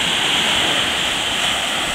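Steady wash of water and surf on the small, secluded Dr Grooms Beach in Grenada, a broad constant hiss with no voices.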